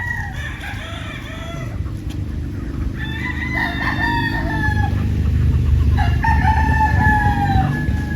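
White Kelso gamefowl roosters crowing repeatedly, several long drawn-out calls overlapping at moderate distance over a constant low rumble of farm background noise.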